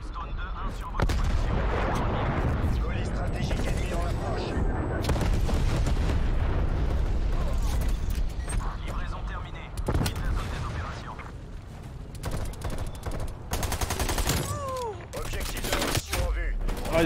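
Gunfire from an AMP63 pistol in Call of Duty Cold War, played in hardcore mode: repeated sharp shot bursts and impacts scattered among game noise, with someone talking over parts of it.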